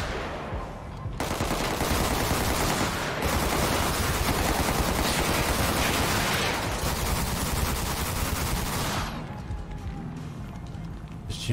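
Sustained video game gunfire, dense automatic bursts blasting loudly for about eight seconds, then dropping away to quieter background sound.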